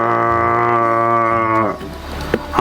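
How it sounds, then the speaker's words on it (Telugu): A cow in an Indian village setting gives one long, loud, drawn-out moo lasting well over a second, then breaks off into quieter background noise with a faint knock near the end. "ఏ చింటూ, తప్పుకో, నేను ఆవును తీసుకొని వస్తున్నాను"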